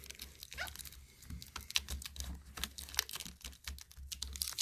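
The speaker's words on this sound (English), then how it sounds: "I add a little tape to it. Just basically tape it down." Adhesive tape is wrapped around an Allen wrench while assembling a Modway Silhouette dining chair, making close, dense crackling and ticking bursts that run throughout with no talking.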